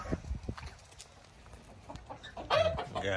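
Chickens cluck on a chicken farm in Australia, with scattered short clucks and a louder burst of clucking near the end, close and clear over quiet barn ambience.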